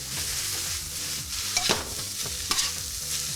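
Chopped garlic and spinach sautéing in a pan, a continuous sizzle broken by a few sharp scrapes and stirring knocks of the utensil, close and clear with no talking.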